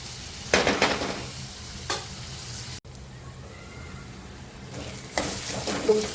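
Chopped tomatoes are sautéed in a pan for dal palak, a quiet steady sizzle broken by a few spoon scrapes and stirs, close but fairly soft.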